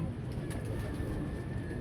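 Soft pigeon cooing sits under a constant low rumble of background noise, faint and somewhat distant.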